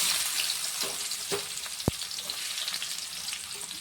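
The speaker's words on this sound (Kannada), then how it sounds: "ಇವಾಗ ಈರುಳ್ಳಿ ಹಾಕ್ಕೊಳ್ತೀನಿ" Onions hitting hot oil with mustard seeds and cumin already in the pan, a steady close sizzle broken by a few stirring clinks and one sharp tap, with no voice heard.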